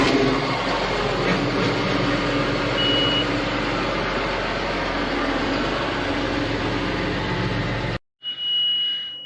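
A warning alarm beeps in a tractor cab over a loud, steady engine drone. The engine then cuts out abruptly, leaving the high alarm tone sounding clearly on its own.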